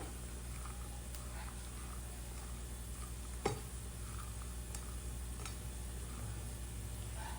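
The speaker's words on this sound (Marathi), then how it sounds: "सर्व मसाले आपण असं भेंडीला मिक्स करून घ्यायची आहे" Okra is stirred in a pan with salt, turmeric and asafoetida, giving a quiet, soft sizzle with scattered scraping and a few sharp utensil clicks against the pan over a low steady hum.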